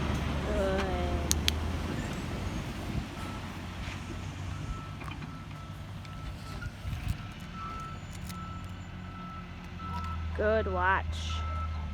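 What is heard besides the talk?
truck reversing with beeps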